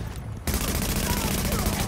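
Sustained rapid gunfire from the shooter game Tom Clancy's The Division, loud and continuous after a brief softer lead-in, with no voices over it.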